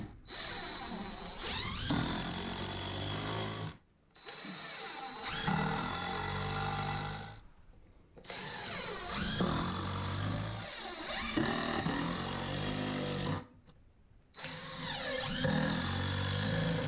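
Power drill driving screws into a wooden top plate during a bathroom framing job, several bursts of whirring motor with short pauses between, close and loud.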